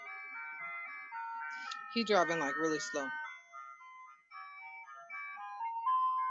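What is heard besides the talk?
ice cream truck driving by playing its jingle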